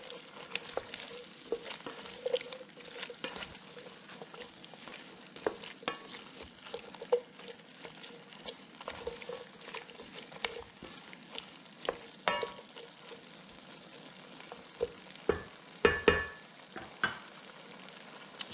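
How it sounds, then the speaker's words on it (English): A pot of Senegalese thieboudienne with ginger, thyme and red pepper flakes is stirred gently, soft spoon scrapes and taps ticking irregularly over a quiet low simmering sizzle, closer clinks near the end, no speech. "Give this a gentle stir."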